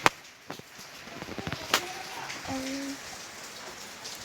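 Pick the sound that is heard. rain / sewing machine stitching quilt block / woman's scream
rain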